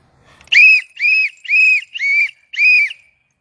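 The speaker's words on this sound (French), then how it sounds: "Je suis en train de siffler." Five loud, sharp whistle notes from a person in Douala, Cameroon, each held briefly with short gaps between, ringing out alone against near silence.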